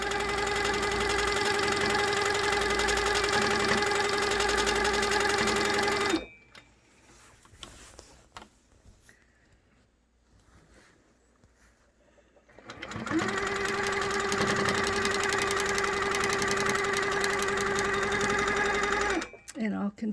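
A sit-down midarm quilting machine stitches a cross-hatch grid along rulers, its steady rapid needle hum running for about six seconds, pausing while someone talks quietly, then resuming at full speed for another six seconds before stopping.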